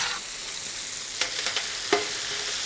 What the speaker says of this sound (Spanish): Echamos nuestros caracoles.